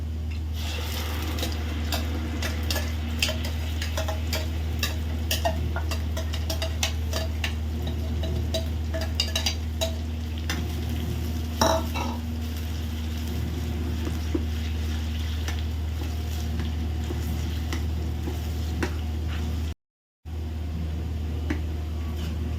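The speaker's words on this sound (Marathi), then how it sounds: "तेल चांगलं गरम झाल्यावरती आपण जे वाटण केलेलं आहे ते टाकणार आहोत" Ground masala paste frying in hot oil for a bangda fish curry, a steady close hiss with frequent sharp ticks and clicks of a utensil against the pan, one brief dropout near the end.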